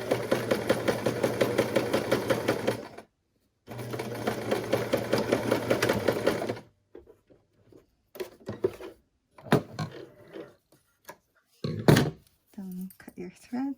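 Sewing machine with a zipper foot stitching a zipper, running in two steady whirring bursts separated by a short pause, then stopping; a person talks afterward over a few clicks and thunks.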